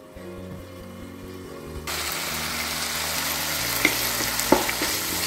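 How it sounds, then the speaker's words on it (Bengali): Spice paste for mocha chingri ghonto sautéing in a pan over medium flame, a steady close sizzle that swells partway through, with a couple of sharp utensil clinks against the pan. "এভাবেই কষিয়ে নিচ্ছি মশলাটাকে ভালোভাবে"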